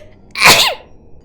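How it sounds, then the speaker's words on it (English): One sharp sneeze bursts out close and loud, a quick rising breath snapping into a hiss, with quiet before and after. "She sneezed again and groaned."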